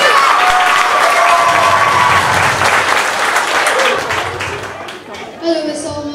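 Hall audience at a youth carnival prince election applauding, dense clapping with some cheering and children's voices, tapering off toward the end as talk and a few shouts take over.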